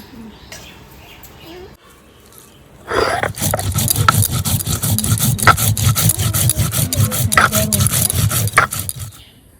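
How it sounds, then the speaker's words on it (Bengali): Cumin and ginger are ground on a grinding stone in a home kitchen, a rhythmic rubbing and scraping that starts abruptly after a quieter moment and keeps up in fast repeated strokes. "জিরে আর আদা বেটে নেবো"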